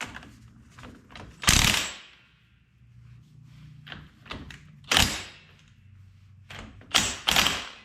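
Pneumatic impact gun spinning a 27mm hub nut onto the wheel hub of a 2016 Polaris RZR during a wheel bearing repair, sounding as three loud bursts of rattling hammering separated by quieter mechanical clicks and handling noise.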